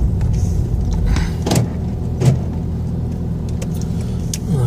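A car drives along a road, heard from inside as a steady, loud engine and road rumble with a few faint clicks and rattles over it.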